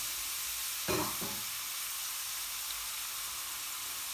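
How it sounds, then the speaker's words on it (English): About 200 grams of diced small onions fry in a hot pan with a continuous close hiss and sizzle, plus a brief sharper burst of crackling as they go in. "we're going to add in our onion"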